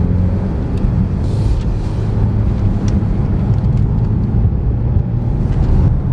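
Inside a Genesis GV70 in sport mode taking a tight hairpin corner, a loud, steady engine and road rumble fills the cabin throughout, with no talk.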